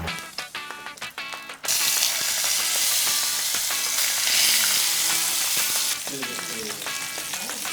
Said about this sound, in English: now we're gonna go ahead and flip our salmon